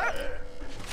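A dog in the video game Valiant Hearts gives a quick, loud yip at the start, followed by a softer whimpering tail, close by with no speech.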